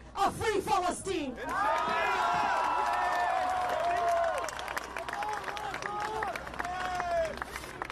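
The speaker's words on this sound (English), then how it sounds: "Everybody give a big round of applause for Cori Bush and Rashida Tlaib" A large rally crowd bursts into sustained applause mixed with cheers, whoops and shouting, loud and dense for most of the stretch, with voices calling out throughout and an amplified voice briefly heard at the start.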